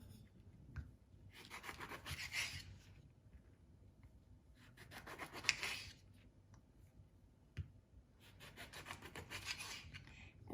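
A knife slicing through squeezed, massaged lemons on a cutting board, heard as three rasping, scraping bursts of cutting with quiet pauses between, close and fairly soft with a few light clicks.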